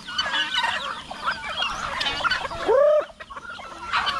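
Guinea fowl calling, a busy mix of harsh, chattering bird cries with one loud, drawn-out squawk partway through, close and without talk.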